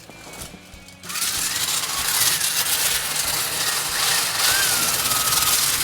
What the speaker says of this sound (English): And then this end goes around to the Shop Vac.